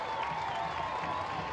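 A large stadium crowd at an NWSL match between the North Carolina Courage and the Houston Dash keeps up a steady, distant roar of cheering and murmur through the whole short stretch.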